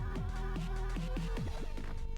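Chiptune-style video game music from Paprium played through the Sega Mega Drive's YM2612 FM sound chip, with quick bouncing bass notes and sustained synth tones in a brisk rhythm, heard alone.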